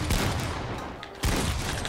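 Pump shotgun blasts in Fortnite, heavy booming shots with a dense, noisy crackle, a fresh loud report striking near the start and another around the midpoint, no pause in the din between.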